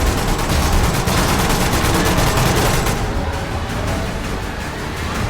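Dense rapid gunfire in the VR shooter Metro Awakening, a loud continuous burst of automatic shots close up that eases slightly in the last couple of seconds.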